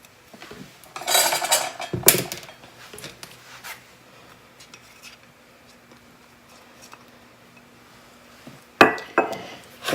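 Graham cracker crumbs, sugar and melted butter stirred together in a bowl for a New York style cheesecake crust, bursts of clattering scrapes and taps of a utensil against the dish, then quiet stretches.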